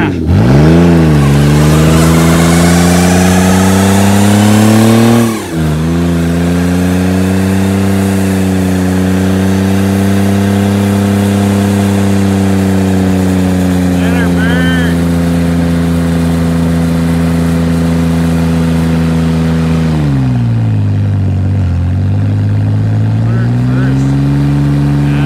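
A Can-Am Maverick X3 engine held at high revs during an all-wheel drive burnout on new tires, loud and sustained, dipping briefly twice before climbing again.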